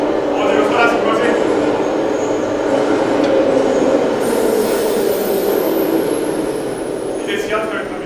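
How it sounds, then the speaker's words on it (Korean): Subway train running as a stage sound effect in a theatre play, a loud, steady rumbling roar with a high wheel squeal sliding across the middle, fading slightly at the end. "이제 지하철을 탑니다."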